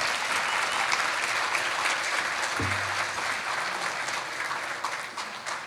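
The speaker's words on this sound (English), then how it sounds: "Let's give a big round of applause." Sustained applause fills the hall for an imam from the Islamic Center of Miami Gardens at a South Florida Muslim organizations event, steady and dense throughout with a brief low thump midway.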